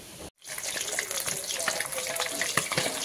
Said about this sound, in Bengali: আমি প্রথমে মাছটাকে লাল লাল করে ভেজে নেব।